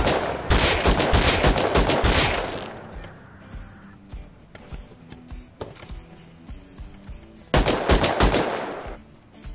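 Automatic gunfire in the survival game Rust, loud rapid bursts that fade into scattered single shots, then another burst toward the end, without speech.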